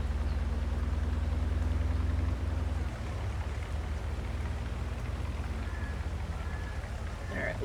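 Steady rain patter in Farming Simulator 22 fills the scene alongside a low vehicle engine hum that shifts partway through, with no talking.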